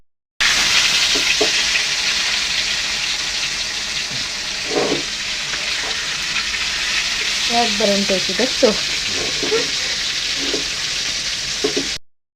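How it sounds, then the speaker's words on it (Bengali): Rohu fish frying in a pan on a home stove makes a loud, continuous, close sizzle with brief speech in the middle. "এই যে হচ্ছে মাছ ভাজা শেষ চুলা বন্ধ করে দিলাম"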